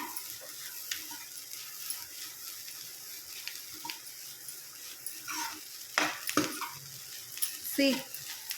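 Egg bhurji stirred in a pan: a steady soft hiss of sizzling runs throughout, broken by louder scraping strokes of the spoon against the pan in the last few seconds.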